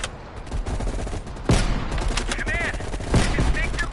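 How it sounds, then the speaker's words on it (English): Gunfire rings out in a Call of Duty Black Ops Cold War battle on a ridge, with loud, repeated shots and bursts mixed with game voices and effects. "You readied your sniper rifle to assist."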